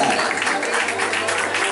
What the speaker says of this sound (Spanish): Quiero pedir fuerte las palmas para el señor Roberto Chukilín, por favor.